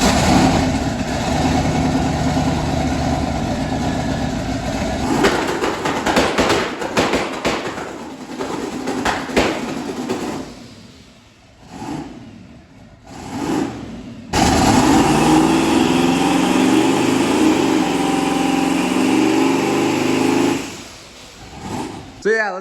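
A twin-turbo 5.2 truck engine runs on a two-step launch limiter, firing loud rapid popping bursts and a rough idle. The bangs come in choppy clusters, drop off briefly, then resume at full volume close by.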